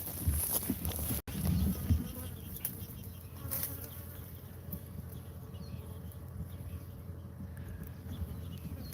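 Killer bees buzz around exterminators working outdoors, a faint, steady swarm drone. A sharp knock and some handling noise sound near the start, then the buzzing continues low and continuous.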